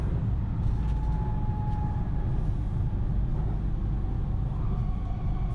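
Steady rumbling of a passing train in Richmond, British Columbia, with a faint tonal whine from the rails, continuous and moderately distant.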